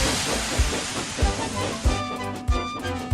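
Steam engine speeding off, hissing steam loudly in a continuous rush, with rhythmic low chuffs and thumps from the wheels repeating roughly every half second.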